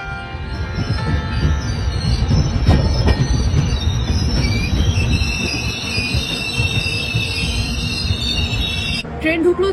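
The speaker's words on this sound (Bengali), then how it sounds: "ট্রেন ঢুকলো চন্দ্রপুরা জংশনে" A Shatabdi Express rolls into Chandrapura junction with a steady, loud rumble of wheels and carriages, ending in a brief high squeal of wheels near the close.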